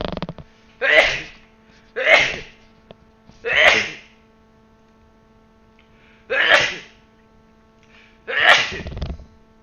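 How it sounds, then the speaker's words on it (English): Five sneezes from a single person, close and fairly loud, each a sharp burst followed by a short tail, spaced a second or two apart with quiet pauses between and a longer gap before the last two. "I'm gonna sneeze."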